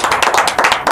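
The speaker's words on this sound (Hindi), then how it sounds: "मैं चाहता हूं कि जोरदार तालियों से उनका इस्तकबाल किया जाए" Close, loud clapping from an audience at a ghazal and poetry festival, welcoming a poet with quick, uneven hand claps in a brief burst.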